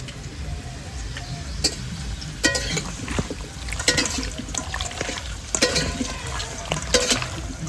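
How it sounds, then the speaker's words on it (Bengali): Mustard oil in a pan for cooking marinated meat, a steady sizzling and liquid hiss with scattered clicks and scrapes of stirring, close and fairly loud, with no speech. "দিয়ে দেবো সর্ষের তেল"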